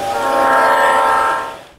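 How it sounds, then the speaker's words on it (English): Model trains running in a conservatory holiday display give a loud, steady rumbling whir with a sustained horn-like tone, fading out at the end. "the trains are tradition for us now"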